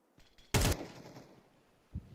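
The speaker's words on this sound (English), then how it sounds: "you've got the ZywOo AWP out, but the rest are on SMGs or pistols" Gunfire in the shooter Counter-Strike during an IEM Atlanta match, with AWP sniper, SMG and pistol shots: one loud, sharp burst followed by a fading tail, then a softer single shot near the end.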